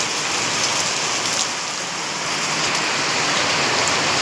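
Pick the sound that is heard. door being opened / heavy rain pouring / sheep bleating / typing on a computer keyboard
heavy rain pouring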